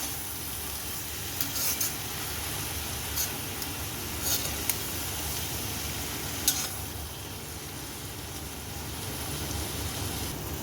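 Potatoes and fenugreek leaves fry in a covered pan over medium flame, giving a soft, even sizzle like light rain with a few scattered ticks and pops.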